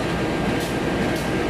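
A CC203 diesel locomotive rumbling nearby while heavy rain drums on a tin roof, blending into a loud, steady roar and hiss with no speech.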